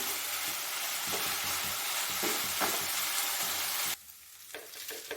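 Chicken keema fries in a pan with a loud, steady sizzle and occasional stirring scrapes, before the sizzle abruptly drops to a quieter simmer near the end.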